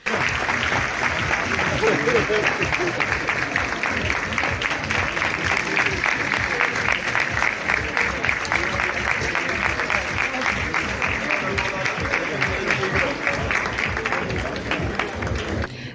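Parents give a standing ovation as Dr. Ziya Selçuk enters a hall, a dense continuous wash of clapping that holds steady throughout, with voices mixed in.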